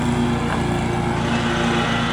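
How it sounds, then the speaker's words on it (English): A lawn mower engine runs at a steady, continuous drone close by, holding an even pitch throughout with no other sounds over it. "He's doing his mowing."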